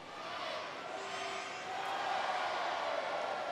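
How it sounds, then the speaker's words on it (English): A stadium crowd at a men's field hockey World Cup match in The Hague, Argentina against South Africa, raises a sustained roar and cheer as it tries to start a Mexican wave, swelling slightly louder midway, heard from a distance. "As the crowd trying to get a Mexican wave going"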